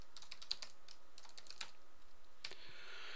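Fast, irregular keystrokes on a computer keyboard at a desk, a quick run of light clicks with short pauses and a soft trailing rustle, close and quiet with no talking.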